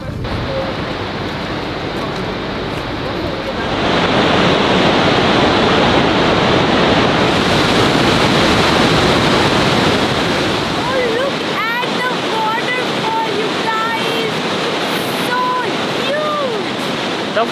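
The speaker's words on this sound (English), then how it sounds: "The force is really powerful of this waterfall." Loud, steady roar of a powerful Icelandic waterfall fills the scene, with a voice speaking over it in the second half.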